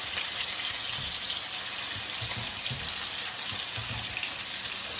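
Peshawari chapli kababs frying with tomatoes in a pan, giving a steady, close hiss of sizzling oil that runs unbroken, with faint low bubbling and popping underneath.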